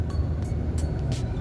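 A car engine climbs in revs as the accelerator is pressed, a steady low drone rising slightly, close and moderately loud with no voices.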